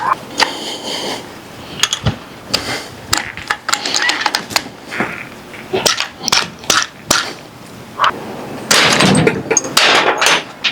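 A pipe wrench works on a 9mm BinTac S45 Nitro airgun during a teardown, producing irregular sharp metallic clanks, knocks and scrapes, loud and close, with a burst of clatter near the end.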